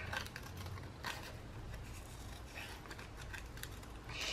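Scissors snip through paper while cutting out a simple crown shape, a series of light, crisp clicks spaced irregularly over a soft background hiss, close and quiet, with no talking.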